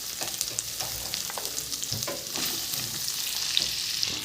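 Bottle gourd sizzles in hot oil with fried ginger paste for a Bengali prawn dish. The frying crackles steadily and close, with scraping stirs of a spatula in the pan and no talk.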